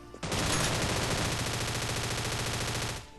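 Scarfall 2.0 mobile battle-royale gunfire rips out as one loud, continuous automatic burst lasting nearly three seconds, rapid shots blurring into a steady rattle before cutting off abruptly.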